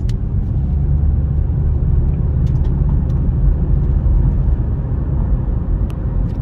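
Inside a 2010 Nissan Altima coupe, the engine pulls with a steady, heavy low rumble of road and motor noise as the car speeds up, a few light clicks over it.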